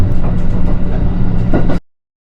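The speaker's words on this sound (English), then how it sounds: "The train passes through many small coastal villages on its way towards Aomori Station." A Japanese train travels toward Aomori Station past small coastal villages, with a steady low rumble and rattle heard from inside before the sound cuts off abruptly.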